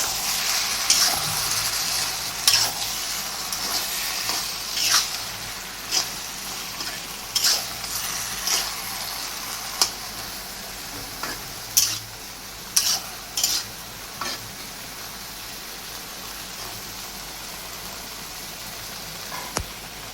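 Cumin and a little coriander being stirred into a frying pan of aubergine, potato and fish, with a steady soft sizzle and regular, sharp spatula knocks and scrapes recurring every second or two.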